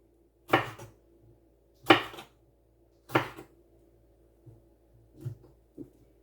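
A knife slicing vegetables on a board for an omelette: three crisp, evenly spaced cuts followed by softer, lighter taps, close and clear with no talk.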